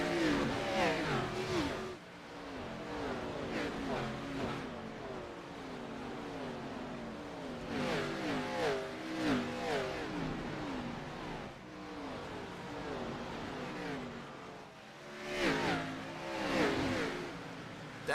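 Race cars at Bristol Motor Speedway accelerating on a restart, with engines revving and whining up through the gears in overlapping waves, loud and close, rising and falling as cars pass.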